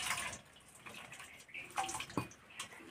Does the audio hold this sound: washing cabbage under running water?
yes